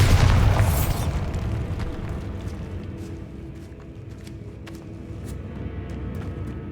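A loud Bombarda blasting-spell explosion from Hogwarts Legacy bursts at the start with a deep boom, then rumbles and decays into a long low roar with faint debris crackles.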